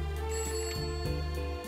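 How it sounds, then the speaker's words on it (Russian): An old telephone rings in a hotel room in 1939, a bright sustained metallic bell trill pulsing in quick bursts, alone and fairly clear. "В 5 часов утра в номере молодого артиста Аркадия Райкина звонок."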